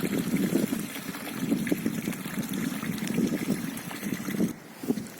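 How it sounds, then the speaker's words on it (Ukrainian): Spring water runs from a small bathing font fed by a spring in Bilohiria, Ukraine, a steady close burble and splash that continues throughout, dipping briefly near the end. "гарна водичка біжить"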